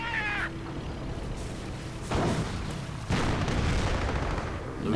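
An anti-tank gun is destroyed in a 1v1 war strategy video game match, with two heavy, close booms landing about a second apart over a rumbling battlefield background.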